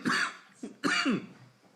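A person coughs in two harsh bursts with a short throat-clearing catch between them, close and fairly loud, with no talk around it.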